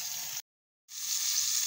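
Flour-dipped wolf fish fries in hot oil outdoors in Trinidad, a steady bright sizzle close by that briefly cuts out and then resumes.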